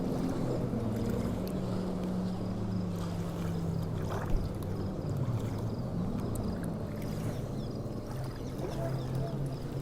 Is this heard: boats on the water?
yes